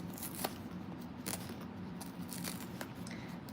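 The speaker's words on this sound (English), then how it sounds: "I'm going to trim a little bit" Scissors trim fabric while a quilted Siah Sidekick is being sewn: a series of crisp, close snips at irregular intervals over a quiet room background.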